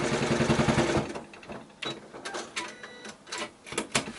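A sewing machine runs in a short, loud burst while basting a zippered quilted pouch, then stops, leaving quieter clicks and handling sounds close by.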